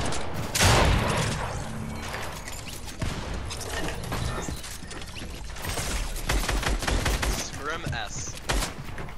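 Gunfire in a shooter video game, rapid bursts of shots and mechanical clatter with a loud volley near the start, mixed with game effects and a person talking over it.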